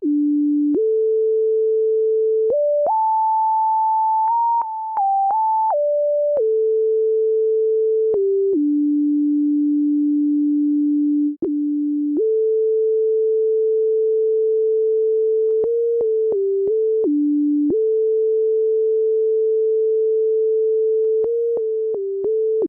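Pure sine wave synth lead from a VST plugin, a clean steady tone stepping between pitches in a simple melody, loud and alone with no other sounds.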